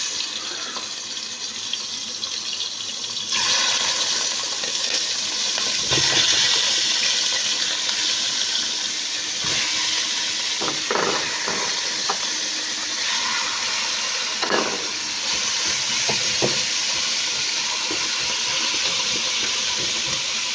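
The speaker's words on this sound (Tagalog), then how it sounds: "Prito tayo di manok." Chicken pieces go into hot olive oil with a sudden loud hiss, then a steady, bright crackling sizzle carries on close by, broken by a few clatters of cookware.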